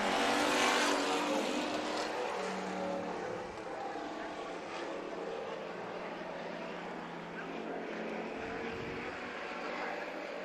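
Hobby stock race cars circling Bakersfield Speedway during a heat race, with a loud engine surge at the start that eases into a steady, more distant roar of the field for the rest of the clip.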